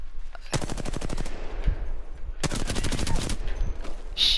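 Rapid automatic gunfire in a video game, two sustained bursts of quick shots separated by a short pause, fairly close and loud, with a faint electronic tone at the end.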